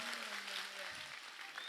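An audience at an Islamic sermon gathering claps in a steady, fairly distant applause for the sound system, while a voice carries faintly underneath.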